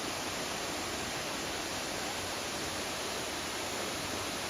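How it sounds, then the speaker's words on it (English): Lower South Falls at Silver Falls State Park makes a steady, even, rushing roar of falling water that continues unbroken, with no voices. "behind me we got Lower South Falls"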